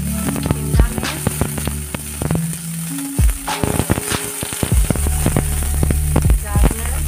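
Green chili and shredded cabbage sizzle as they drop into a hot pan for a winter soup, with a steady frying hiss, scattered crackles and clattering stirring knocks.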